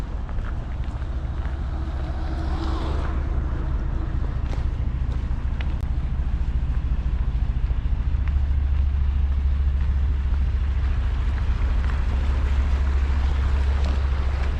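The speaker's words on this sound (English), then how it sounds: "my first narrow boat travelling along the canal is here" A narrow boat travels along a canal, its low steady engine drone running throughout, with wind buffeting the microphone and a faint splash of water early on.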